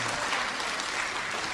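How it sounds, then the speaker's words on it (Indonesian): Audience applause for a preacher's wife at a religious sermon on charity, a steady dense wash of clapping held at an even level for its short length. "Oh, tepuk tangan buat istri yang sempurna."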